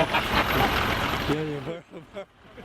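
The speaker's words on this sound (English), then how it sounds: "Hey, the bus is leaving without us, we gotta go" A bus at a roadside stop in Nepal, its engine rumbling loudly and steadily before cutting back to a lower idle, with voices talking nearby over the engine noise.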